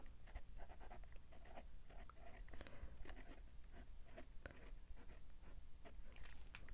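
Fountain pen nib with a purple ink cartridge scratching steadily across paper, close and quiet, with a continuous run of small strokes and taps throughout.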